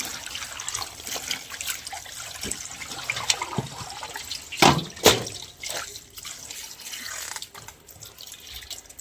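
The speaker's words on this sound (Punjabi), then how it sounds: "ਇਸ ਤਰੀਕੇ ਨਾਲ ਆਪਾਂ ਤਿੰਨ ਚਾਰ ਪਾਣੀਆਂ ਚ ਇਹਨੂੰ ਸਾਫ਼ ਕਰ ਲੈਣਾ ਬਦਲ ਬਦਲ ਕੇ ਪਾਣੀ" A shawl being rinsed by hand in a basin of water, with soft splashing, sloshing and dripping throughout and a few sharper splashes midway, close and moderately quiet, with no talking.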